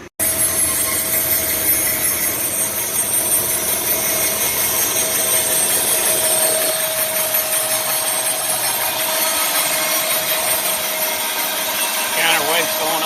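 A bandsaw mill cuts a 1-inch red oak board with a steady, loud engine drone and sawing hiss that runs continuously, then the cut ends and the engine note drops lower near the close.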